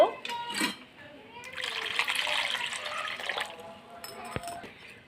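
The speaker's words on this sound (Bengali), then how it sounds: "এবার এটা জল দিয়ে আমি একটু ধুয়ে নেব।" Peeled raw mango rinsed under running water, a splashing, trickling wash heard close, with people talking over parts of it and a brief clatter near the end.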